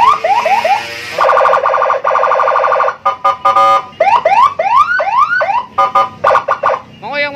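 A Honda Beat motorcycle's add-on electronic siren blares close and loud, cycling from fast warbles to a steady buzzing tone and then short repeated chirping bursts and quick rising whoops, with no voices.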